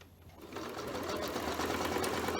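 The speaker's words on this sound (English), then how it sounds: "I'm starting sewing on the straight edge of that triangle" A sewing machine runs steadily, stitching the straight edge of fabric triangles for a Lotus in Bloom quilt block, its close motor whir building slightly in loudness.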